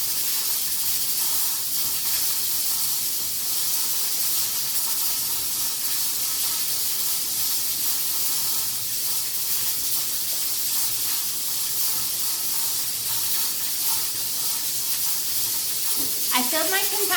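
A pressure canner vents steam in a home kitchen while zucchini relish is being canned, giving a loud, continuous broadband hiss that fills the room and holds steady throughout, with a brief clatter near the end.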